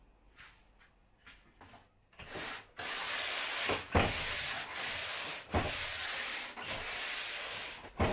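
Wood sanded by hand for a pen case, a few light rubbing strokes first, then long rhythmic back-and-forth sanding strokes, close and fairly loud, with no voices.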